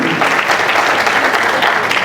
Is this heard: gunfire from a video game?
no